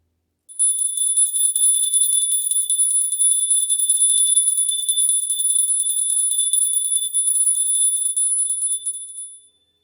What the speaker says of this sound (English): let's go ahead and do our silver witch's bell to set the space